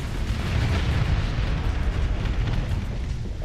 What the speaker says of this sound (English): Torpedoes.